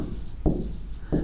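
Chalk or marker writing on a board during an engineering lecture, two short scratchy strokes over steady room noise, close and moderately loud.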